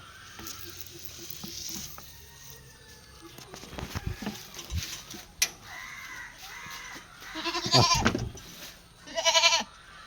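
Goats bleat at a farm offering dairy goats for sale. A few short, wavering bleats stand out over a noisy outdoor background, with the loudest calls near the end.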